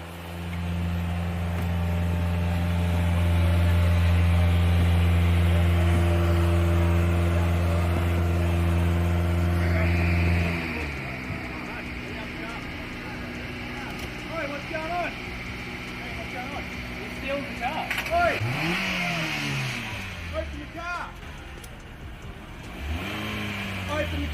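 A car stolen from a car dealership drives off, its engine loud and droning at first, then dropping to a lower rumble that rises and falls as it pulls away.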